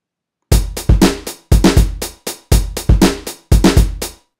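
A syncopated funk drum pattern loops four times, punchy kick and snare hits with hi-hats and an extra bass drum stroke on a sixteenth note, played loud and dry with no voices.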